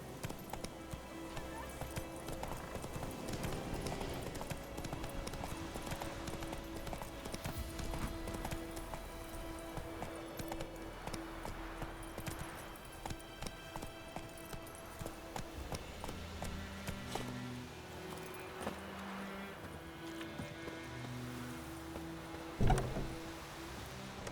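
Horse hooves clip-clop at a steady walking rhythm in The Witcher 3 video game, close and moderately loud, layered over soft background music and ambient game sound with no talking.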